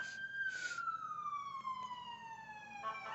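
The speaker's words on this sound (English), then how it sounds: "literally there were no sirens before I started this, and now there's sirens now" An emergency vehicle siren wails outside, a long descending tone sweeping down over a few seconds with short bursts around it, moderately distant and heard through a room.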